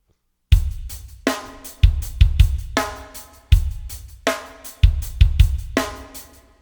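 A drum pattern programmed in Reason with varied hit velocities plays a looping groove of kick, snare and hi-hats. The accents rise and fall for a more human, dynamic feel, loud and unaccompanied.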